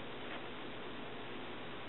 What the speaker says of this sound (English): if you pick up another telephone and turn it on, you'll hear this telephone click a little